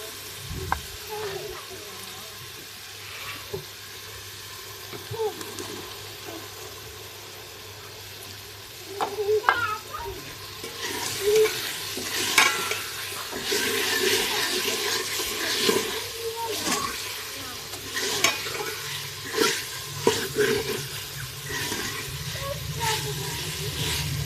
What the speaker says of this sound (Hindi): इनको थोड़ा सा भून लेंगे, ठीक है।